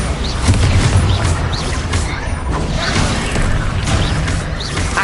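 Loud booms and crashing impacts burst from the Bombarda spell during magical combat in Hogwarts Legacy, landing in repeated heavy hits amid a busy, sustained din of battle effects.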